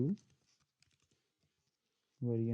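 Quiet, scattered keystrokes on a computer keyboard as router RIP commands are typed, a short run of light clicks between bursts of a man's speech.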